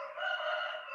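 A rooster crows once, a single sustained, strained cock-a-doodle-doo heard alone and fairly clear for about a second.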